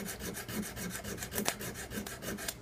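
A bastard file rasping across guitar frets during fret leveling, a close, soft rhythmic back-and-forth scraping at an even pace, about four to five strokes per second.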